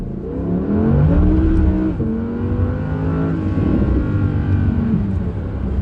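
An Audi R8 RWD accelerates hard on a bumpy road surface while traction is tested, its engine a loud, steady, rising drone with harmonics that climb, dip at a gear change and climb again, heard from inside the car.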